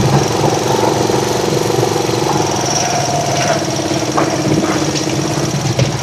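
A vehicle engine running steadily while the vehicle wades through deep floodwater that reaches the engine, with a continuous rough mechanical drone and faint splashing texture, close and fairly loud.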